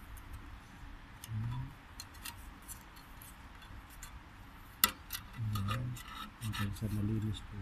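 A blade slowly scrapes grime off the front cover of a six-cylinder Cat generator. Short rasping strokes come in bursts with small metallic clicks and one sharp knock, close and fairly quiet.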